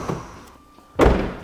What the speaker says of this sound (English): look at how the door closes with one finger